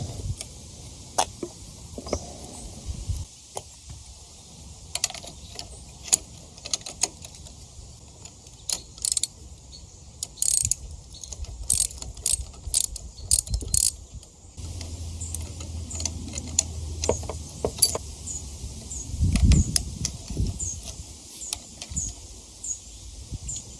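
Ratchet wrench clicking in quick runs while parts come off a Suzuki SV650 motorcycle engine, sharp metallic ticks and taps close by, mixed with handling clatter and a brief low rumble near the end.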